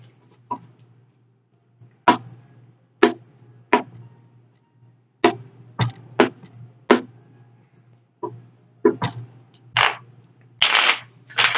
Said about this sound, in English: we'll do two more shuffles